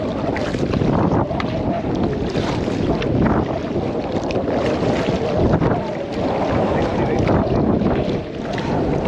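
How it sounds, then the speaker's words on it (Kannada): Wind blows hard over open backwater while kayaking at Manchinbele dam, a constant loud rushing roar buffeting the microphone with little variation. "ಗಾಳಿ ಈ ಕಡೆ ಬೀಸ್ತೈತಲ್ವಾ ಮಚ್ಚ"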